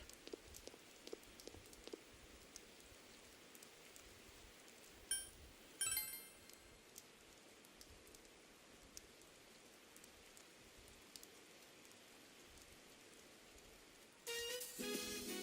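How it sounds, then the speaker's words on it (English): Soft rain in the video game Persona 4, playing alone with no music as a faint, steady patter, broken by a few light clinks and a brief louder burst near the end. "There is no music, just rain."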